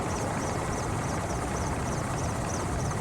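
A helicopter drones steadily over the remote Tunguska wilderness, its rotor giving a continuous, even whir with faint rhythmic chopping throughout.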